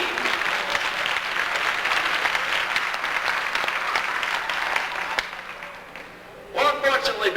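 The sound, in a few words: zoo audience applause for sea lion show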